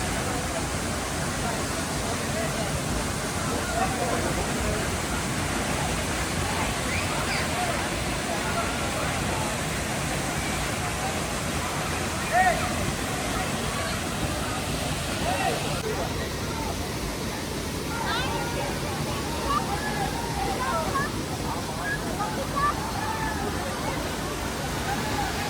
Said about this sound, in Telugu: చూస్తున్నారు కదా, ఇది సూచీపారా వాటర్ ఫాల్.